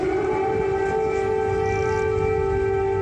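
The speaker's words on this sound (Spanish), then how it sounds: "acompañados por el sonido de una sirena antiaérea" An air raid siren wails across the streets of Kyiv, Ukraine, a loud, sustained steady tone holding without a break, with no voices over it.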